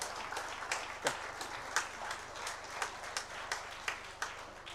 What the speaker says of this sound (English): You deserve a really huge round of applause